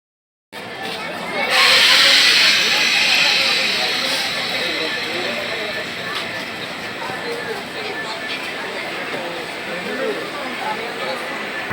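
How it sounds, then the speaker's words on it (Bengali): A moving passenger train on a journey towards Kumarghat gives a steady broadband rumble and hiss that stays fairly loud throughout, with an indistinct crowd murmur in the carriage. "ট্রেন তো চলছে, এবার ট্রেন স্টার্ট হয়ে গেছে।"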